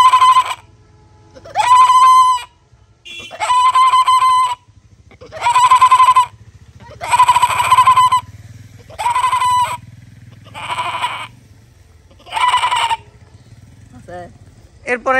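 A person imitates a goat bleating, giving about eight loud, quavering bleats in a steady rhythm roughly one per second, close by over a low background hum.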